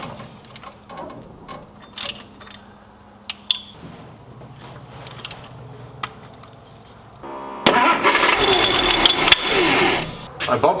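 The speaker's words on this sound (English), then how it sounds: "I bumped the starter, the thing fired right up, which I was not expecting." An old car engine, cranked with a bump of the starter, fires up unexpectedly: light mechanical clicks and tinkering first, then a sudden loud, close engine roar that keeps running steadily to the end.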